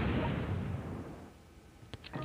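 Artillery bombardment in the strategy game World Conqueror 4 (2018 mod), a booming, rumbling blast that fades away, followed by a few faint sharp pops near the end.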